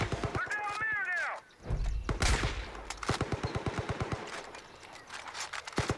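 Gunfire in the shooter game Far Cry 5, a burst of rapid automatic shots followed by a heavy thump, then further quick volleys of sharp cracks, with a voice talking over parts of it.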